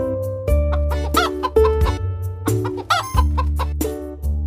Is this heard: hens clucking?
yes